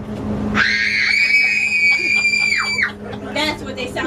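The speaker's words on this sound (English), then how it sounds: "Let's hear your best screams, okay? Scream as loud as you can." An audience at a talk on ghosts and gravestones screams as loud as they can, one long piercing shriek of several voices held for about two seconds before breaking off, followed by scattered laughter and chatter.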